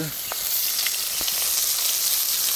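Onions fry in hot oil for biryani, giving a continuous bright sizzle across the whole short stretch, close and fairly loud, with a couple of faint clicks.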